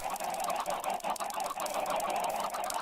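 Chickens cluck in the Minecraft video game, a continuous run of close, nasal squawks layered densely without pause.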